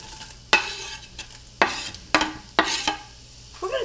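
Food is laid into a skillet of hot oil for a cabbage roll casserole, with several sharp sizzling bursts, each fading quickly, amid faint stirring and clatter.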